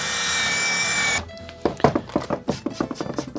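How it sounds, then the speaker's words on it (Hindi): A countersink drill bores a screw-head recess into wood during a camper van build: a steady high whine for about a second, then a pause and a run of rough, rhythmic cutting bursts as the bit bites into the wood, loud and close. "इसको कहते हैं काउंटर सिंक ड्रिल"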